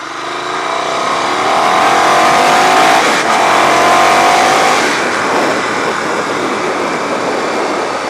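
A small motorbike rides along a rough, bumpy road, its engine droning steadily and swelling to a loud peak midway before settling, with continuous wind and road rumble throughout.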